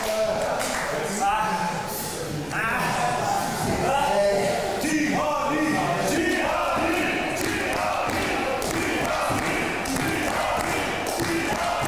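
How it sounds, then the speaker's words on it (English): A wrestling crowd at a wXw Fight Forever show cheers and chants vocally for Peter Tihanyi, a sustained, rowdy roar of many voices with talk running over it throughout. "Crowd very vocally supportive of Tihanyi"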